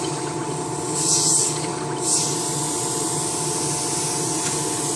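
An airbrush sprays soapy cleaning fluid that foams at the tip, a steady close hiss over a low hum with two brief louder bursts of spray and no voices.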